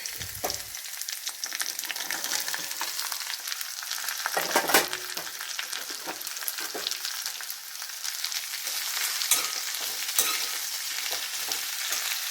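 Okra tipped into a pan of browning onions fries with a continuous bright sizzle, and scattered clinks and stirring scrapes sound close by.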